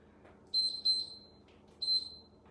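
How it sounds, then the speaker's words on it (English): A workout interval timer marking the start of a 45-second circuit interval gives three sharp, high electronic beeps, two close together and one after a short pause, clear and alone with no talking. "timer is starting right now"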